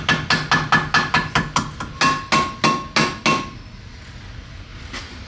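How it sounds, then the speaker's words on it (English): A ball peen hammer taps a metal part of a mini bike about a dozen times in a steady, even rhythm, each blow a bright close ringing clank, before stopping into quiet. "this is where the ball peen comes in handy"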